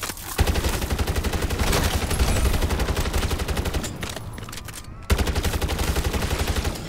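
Rapid automatic gunfire in Call of Duty MWZ, aimed for headshots: loud, steady rattling bursts that run continuously, break off briefly, then resume at the same fast rhythm.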